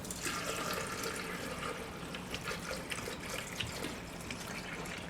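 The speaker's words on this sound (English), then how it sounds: "I'm going to add my water, which is a filtered water." Filtered water pours steadily into a pot for chicken bone broth, a continuous close splashing rush that fills the clip with no talk.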